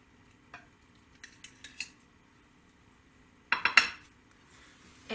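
Plates and cutlery clink in a kitchen while pork chops are plated, a few light scattered taps followed by a louder quick cluster of ringing clatters, close and otherwise quiet.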